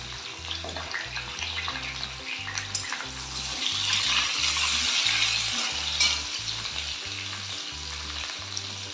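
Small whole potatoes frying in oil in a kadai for a potato dum, with a steady close sizzle and a repeated stirring scrape throughout. No one speaks.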